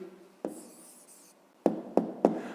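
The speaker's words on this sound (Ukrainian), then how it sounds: "Пишемо відповідь" A pen writes out the answer to a fifth-grade math exercise: a soft scratchy stroke along the paper, then three sharp, close taps in quick succession. No one speaks.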